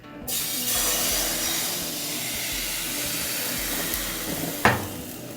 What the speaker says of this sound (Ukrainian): на добре розігріту сковорідку вливаю тісто